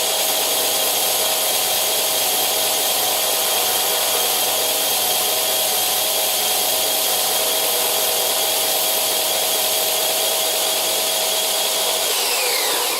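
A hand-turned circle cutter with a small blade carves a toy wheel from wood, a continuous close scraping and rasping hiss held steady throughout, easing off in the final moments; no voices.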